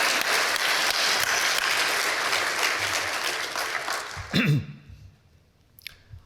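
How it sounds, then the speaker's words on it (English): An audience at a health-data science conference breaks into loud, dense applause that holds for about four seconds, then tapers off into scattered last claps and room noise. "But we can applaud anyway."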